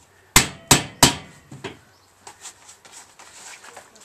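Three sharp, close hammer blows on rivets in a metal Yoshi race can, evenly spaced, followed by a few softer scattered taps.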